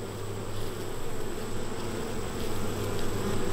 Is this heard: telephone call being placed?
no